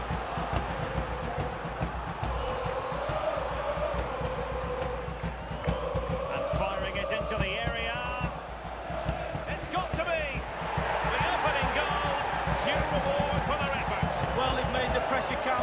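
Football stadium crowd at Rapid Bucuresti versus Dinamo Bucuresti, a steady roar of chanting and noise filling the whole stretch, swelling louder toward the end.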